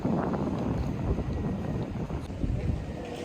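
Cold wind blows near the water in Amsterdam, a constant loud low roar buffeting the microphone with no pauses.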